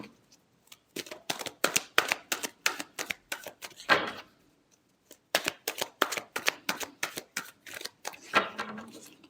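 Tarot cards riffle and shuffle in two bursts of rapid, crisp flutters, close and fairly loud, separated by a short pause.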